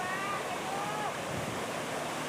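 Steady, dense roar of floodwater rushing through a village in Demak, Central Java, after a swollen river broke through an irrigation dike, unbroken for the whole stretch with a faint, thin tone drifting over it.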